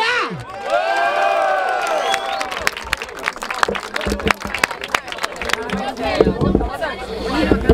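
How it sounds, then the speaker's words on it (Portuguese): A crowd claps and cheers loudly at the final of a rap battle in Barueri, Brazil, with shouts and whistles rising over a steady wash of applause that keeps going throughout. "palmas pra essa batalha!"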